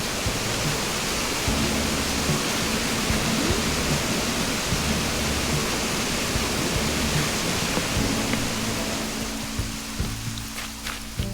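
Waterfalls on an island in the Animal Crossing video game, a constant dense rushing hiss of falling water, loud and steady throughout, with faint soft game music tones beneath and a few light clicks near the end.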